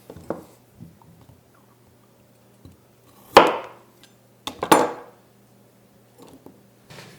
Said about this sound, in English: Just cut them lengthwise in half